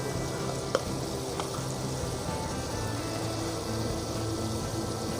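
Chicken karahi sizzling steadily in hot oil as crushed red chili goes in, a dense close frying hiss with a faint utensil tap or two and no speech.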